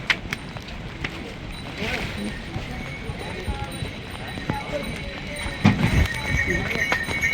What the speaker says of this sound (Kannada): ಕುದುರೆಗಳ ಮೇಲೆ ಬಂದಿದ್ದೀವಿ ಪಾಪ